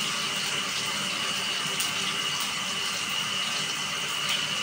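Water runs steadily into a cooking pot holding string beans, a continuous, fairly loud hissing pour with no talk over it.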